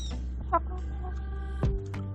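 Ex-battery hens cluck softly in short bursts nearby over a low steady hum, with a few clicks and taps.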